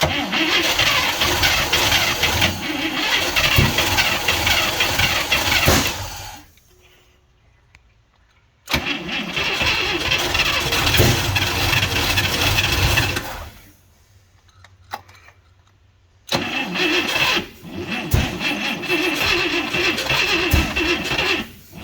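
A 1971 International Travelall 1210, unused for 22 years, cranks and runs roughly in three long loud bursts of engine noise separated by quiet pauses, heard up close.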